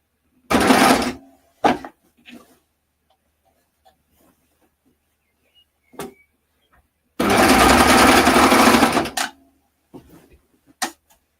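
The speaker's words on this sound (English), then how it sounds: "confident that my overlocker should be able to cut through this" An overlocker stitching and cutting through fabric runs in two loud bursts, one short and one longer, with brief clicks and quiet gaps between them.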